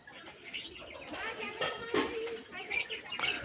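Old-line pigeons kept in a home loft, with a newly arrived bird, give soft cooing and chirping close by, mixed with faint rustling and wing movement, while people talk in the background.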